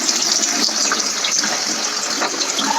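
Water rushes steadily through newly installed toilet plumbing with a pump running, a constant broadband gush that holds at an even level from start to finish, with no voices.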